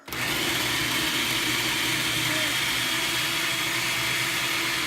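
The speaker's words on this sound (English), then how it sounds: "Let's blend it." A blender whirs steadily at high speed blending hummus, a loud, continuous grinding roar with no talking over it.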